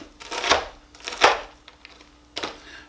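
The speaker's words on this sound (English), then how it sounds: "we're going to now chop up the bacon" A knife chops through bacon on a board, three distinct heavy cuts spaced about a second apart, close and fairly loud with quiet pauses between.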